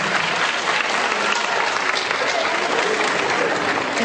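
Sustained applause from a school audience for a student dance workshop at a municipal school showcase, dense and steady clapping at close range throughout, with no pauses.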